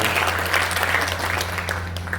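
Audience at an NGO foundation ceremony in Auraiya claps steadily and alone, a dense even patter holding for a couple of seconds beneath a low steady hum.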